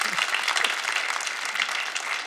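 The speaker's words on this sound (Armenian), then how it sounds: "բարձր ծափարում ենք Միքայելին։" Studio audience applause on an Armenian television game show, a steady dense wash of many hands clapping close and loud throughout, with no talk over it.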